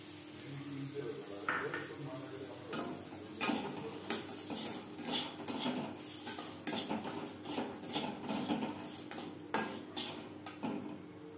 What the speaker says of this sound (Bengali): সুজিটাকে এইভাবে ভাজতে হবে, মিডিয়াম টু লো ফ্লেমে।